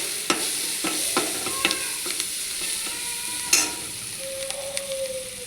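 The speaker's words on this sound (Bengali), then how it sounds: "এখন এই দুটোকে ভালো করে নাড়াচাড়া করে, পেঁয়াজটাও আমার বেশ একটু ভাজা ভাজা হয়ে এসছে" Onions sizzle steadily in a pan of hot oil while a spoon or spatula stirs them with repeated scraping clicks and knocks; the cooking is close and fairly loud, and no one speaks.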